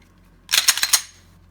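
Dry-fire clicks from an Overwatch Precision trigger installed in a Glock 17: a quick cluster of four or five sharp, bright metallic clicks in about half a second, close and fairly loud against a quiet background.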